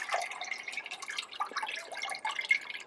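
Water drains from a papermaking mould lifted out of recycled paper pulp, making a quiet, continuous patter of small drips and trickles with no voices.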